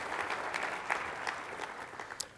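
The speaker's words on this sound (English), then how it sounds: "So let's just give them a round of applause" Conference audience at an Ex-Im Bank annual gathering gives a round of applause, steady crowd clapping with a few sharper individual claps standing out near the end.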